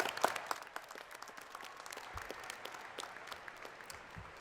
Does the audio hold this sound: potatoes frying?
no